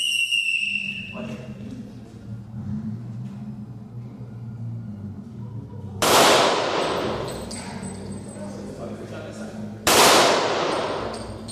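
Two sharp, loud gunshots ring out several seconds apart at a police shooting range, each followed by a lingering echo, with low murmuring voices and background rumble throughout.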